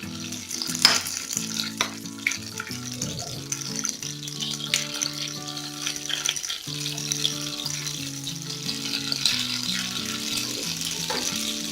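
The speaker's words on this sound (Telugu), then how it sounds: "పండు మిర్చి ఇలా ఫ్రై చేసుకోవాలి." Ripe red chilies frying in oil for a tomato pickle make a continuous close sizzle with bubbling crackle, joined by the scrape and clatter of stirring that rises and falls throughout.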